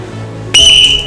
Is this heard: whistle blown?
yes